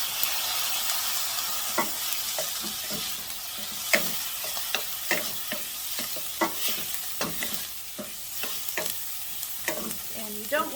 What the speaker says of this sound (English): So at this point, I'm going to add some garlic.